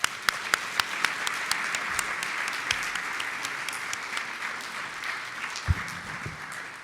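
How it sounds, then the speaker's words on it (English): A conference audience applauds after a keynote on the human element of future work, a steady wash of many hands clapping with a few louder individual claps standing out near the start, and no talk. "Round of applause."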